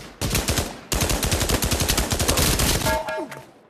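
Thompson submachine gun in the video game Pavlov firing two close, loud bursts of rapid rhythmic shots, the second long and sustained before stopping, followed by a few metallic clicks.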